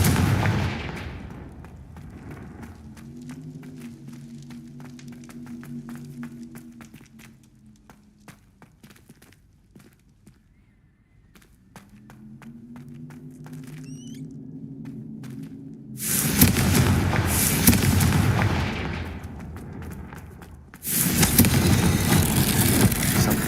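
Confringo fire spell explosions in Hogwarts Legacy: low rumbling drones and scattered clicks build up, then two loud, broad blasts of fiery explosion roar close by, no talking.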